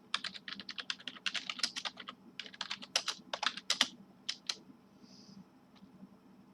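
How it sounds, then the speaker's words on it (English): Fingers type on a computer keyboard in rapid, uneven bursts of close, crisp clicks, slowing to a few isolated taps at the end. "It's hitting the space bar when I'm still typing a word."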